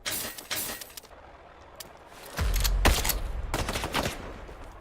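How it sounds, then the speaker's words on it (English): Gunfire in the video game Islands of Nyne, several sharp bursts of shots crackling in quick clusters over a low background hum, moderately loud. "I don't know where I'm being shot."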